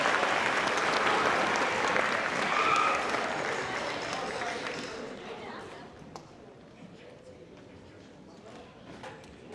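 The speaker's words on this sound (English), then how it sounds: "Let's give one more round of applause to our Trios" Audience applause at a school pops concert for student trios, loud and dense at first, then thinning and fading over the following seconds, with scattered claps and crowd murmur.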